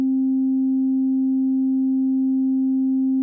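With tonic modulation turned down, the AlchemDie synth plugin, modelled on the Make Noise Strega, holds a pure, unwavering sine-like tone with faint upper harmonics, constant and alone throughout.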